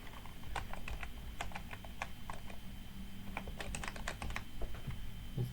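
Steady typing on a computer keyboard during a FreeBSD server setup, with irregular bursts of fairly close key clicks running through the whole stretch and no talking.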